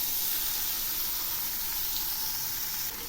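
Fish fries in a pan with chopped onion and garlic, giving a steady hiss and sizzle that stays even throughout, fairly soft and close, with no voices.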